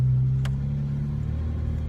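A 2015 Porsche 911 GT3 engine hums steadily while driving, a low droning tone heard from inside the cabin with a faint brief click early on.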